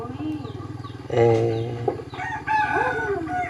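A rooster lets out one loud crow close by, with hens clucking around it and a person speaking over the farmyard noise.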